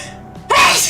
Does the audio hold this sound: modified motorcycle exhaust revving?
no